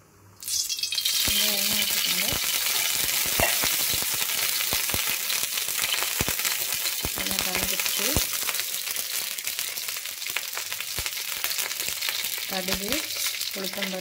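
Mustard seeds, urad dal, chana dal and cumin crackle and sizzle loudly in hot oil for a South Indian tempering, with a dense steady fry broken by sharp pops and occasional stirring scrapes.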